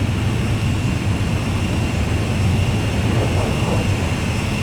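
Steady, loud roar of a jet aircraft in Ace Combat 5 as it closes on a refueling plane, a dense continuous engine rush with no talk over it.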